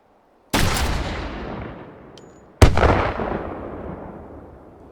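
Two sharp, loud blasts from exploding bullets in the video game Hot Dogs, Horseshoes and Hand Grenades, each splitting on impact and ringing out in a long decaying rumble, about two seconds apart, with no talking.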